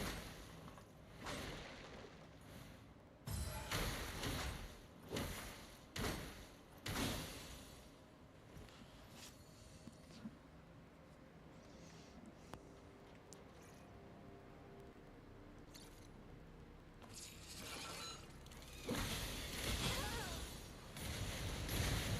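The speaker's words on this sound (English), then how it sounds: "That was a lot of explosions." Explosions go off in the soulslike video game Ai Limit: a string of loud, booming bursts at irregular intervals, followed by a longer rumbling stretch and a final heavy blast.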